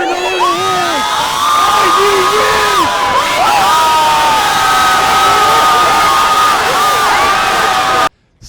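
A large No Kings protest crowd cheers, whoops and shouts continuously at close range, overlapping voices forming a loud sustained roar until an abrupt cutoff near the end.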